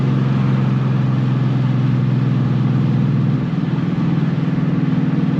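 A 2019 Ford Mustang GT V8 roars loudly at full throttle, a close, sustained deep engine drone that holds steady throughout with a slight pulsing dip near the middle.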